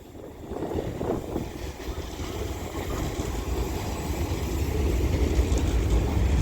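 A London Northwestern Railway Class 350 electric train arrives at Wolverhampton station on the West Coast Main Line, its low rumble and rolling noise building steadily as it draws closer.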